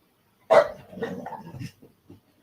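A dog barks sharply once up close, then gives a few rougher, softer barks and a couple of faint trailing yips before falling quiet.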